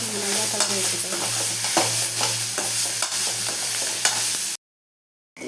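Keerai and egg poriyal being stirred in a hot pan: steady scraping strokes over a continuous close sizzle, running unbroken for several seconds before cutting out briefly.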